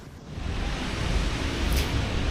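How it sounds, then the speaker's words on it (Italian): Broad, steady rush of flowing water at a desert oasis in Fayoum, Egypt, a continuous full-bodied wash that stays close and fairly loud throughout with no voices. "Il rumore dell'acqua spezza il silenzio del deserto"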